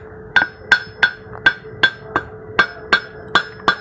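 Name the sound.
flour mill emery stone being struck to test its quality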